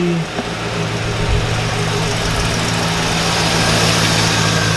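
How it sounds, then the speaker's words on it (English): Truck engine idling right after start-up, a loud, steady low rumble with a constant hum that runs unbroken and close for the whole stretch, no voices over it. "Turn on the truck, turn on the AC."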